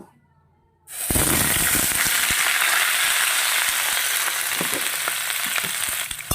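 Vegetables dropped into hot oil after a near-silent second, bursting into a loud, steady, crackling sizzle that holds close and strong to the end.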